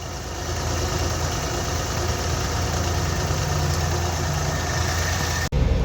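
A Suzuki Mehran engine with repaired fuel injectors idles steadily and evenly without misfiring, a close, constant mechanical hum with faint rattle, ending in a brief click.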